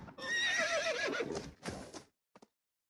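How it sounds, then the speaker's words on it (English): Horses neigh loudly and close, a long shrill whinny that rises and wavers, then a second shorter one, followed by a couple of faint hoof clops before silence. "Then they heard horses across the river"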